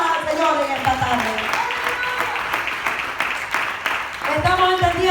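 A church congregation applauds during an afternoon Spanish-language service, sustained clapping at close range while a preacher's voice talks over the start and end.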